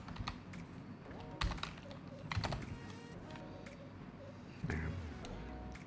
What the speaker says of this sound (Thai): เดี๋ยวผมต้องพิมพ์ไปก่อนนะครับพิมพ์คำว่า